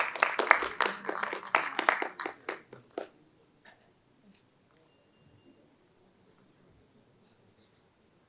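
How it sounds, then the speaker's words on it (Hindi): Applause from the audience at a Hindi-Urdu poetry gathering (kavi sammelan and mushaira) in Jammu and Kashmir. Brisk clapping for about three seconds tapers off into a few scattered claps, then near silence. "जोरदार तालियां एक बार।"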